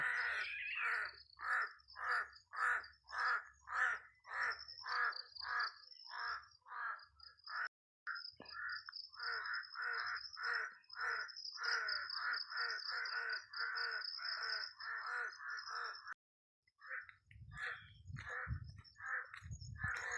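Crows caw in long runs of rapid, repeated calls, fairly close and loud, with brief pauses and some low rustling near the end.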